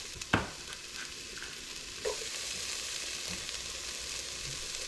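Chopped onions frying in a pot as the base for a chicken and sausage gumbo, a steady close sizzle with a couple of sharp stirring knocks near the start and midway.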